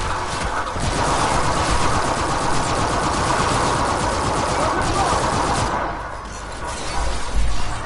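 Rapid automatic weapon fire in the video game Infinite Warfare, a loud sustained rattling stream of shots with crashing impacts, briefly easing near the end before one last heavy burst.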